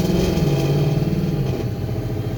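Stock 2018 Ford Mustang GT with a Coyote engine during a dyno-style test pull, a loud close engine drone whose pitch shifts briefly before easing slightly, with no talk over it.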